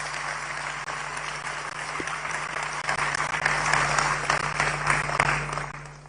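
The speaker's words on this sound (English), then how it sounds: "Let's give our national chairman another round of applause." A large crowd at a National Democratic Congress political address applauds in a long continuous roll of clapping, swelling slightly in the middle, with a steady low hum beneath it and no speech.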